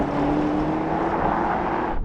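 Porsche Panamera Turismo and Mercedes-AMG E63 S accelerating hard side by side in a rolling race, a steady, loud engine and road roar with rising whine, cutting off abruptly at the end.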